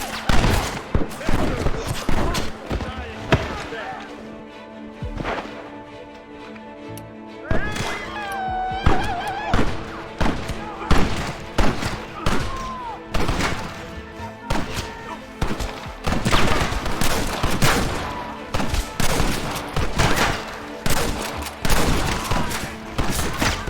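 Gunfire in the Western video game Red Dead Redemption, with a near, loud string of shots and clustered volleys in irregular rhythm, a brief lull early on, and background game voices mixed in.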